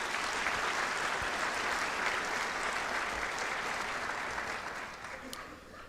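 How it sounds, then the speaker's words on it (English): A school audience at a National Honor Society ceremony applauds student leaders with a sustained wash of clapping from many hands that tapers off near the end. "Please give them a round of applause."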